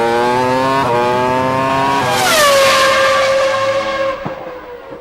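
A 1999 Formula One car at Silverstone revs hard toward 16,000 rpm: a loud, close, screaming engine whose pitch climbs through gear changes, then settles and drops off near the end.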